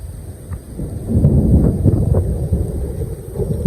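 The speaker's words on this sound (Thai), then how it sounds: "เสียงฟ้าร้องครับ" Low, rolling thunder rumbles loudly for a few seconds at a mountain viewpoint over a sea of mist at Pha Sawoei, Phu Phan, Thailand, with wind buffeting the microphone.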